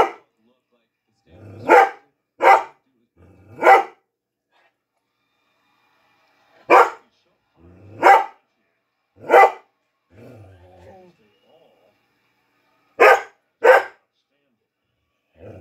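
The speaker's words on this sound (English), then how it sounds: "look at the doggy on TV." A dog barks from a television in short bursts of two or three, with pauses between groups, fairly close and clear, with no talking over the barks.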